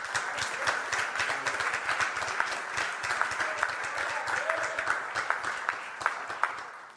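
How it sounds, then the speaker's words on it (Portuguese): A church congregation applauds continuously, a dense roomful of clapping with sharper individual claps popping out of the steady wash. "Pode aplaudir o Senhor, querido."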